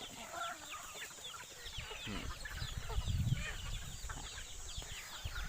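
A crowd of fat farm chickens cluck continuously while scrambling for feed corn, a busy overlapping chatter of short calls at close range.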